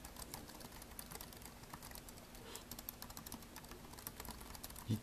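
Typing on an i-rocks IRK01W full-size pantograph keyboard, a quiet, soft patter of light key clicks at a steady pace, close but faint.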